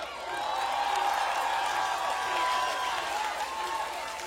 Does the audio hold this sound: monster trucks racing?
no